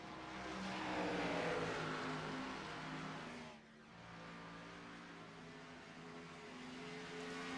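Stock car engines drone and whine at Dover in an Xfinity Series racing video game, a loud sustained roar that swells, dips briefly and then builds again as the cars circle the track.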